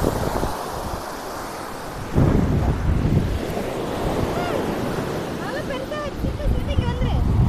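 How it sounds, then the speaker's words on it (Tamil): Sea waves break at a beach under a strong, cool wind, a loud, continuous roar of surf with wind buffeting the microphone, and voices talk over it. "எப்படி கடல் எப்படி வருது பாரு, செம்மையாக காற்று அடிக்குதுங்க."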